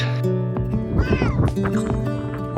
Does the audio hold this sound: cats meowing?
yes